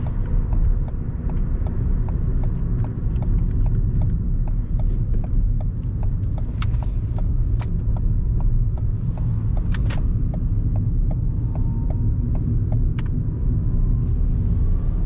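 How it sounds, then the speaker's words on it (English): A Ford Fiesta engine rumbles steadily from inside the cabin during a drive, with faint regular ticking and a few sharp clicks over the low drone, and no one speaking. "A little bit difficult to get the downshifts perfect like that one."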